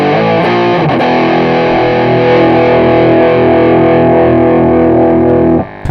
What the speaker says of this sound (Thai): ร่วมกับเสียงแตกภายนอกนะครับผม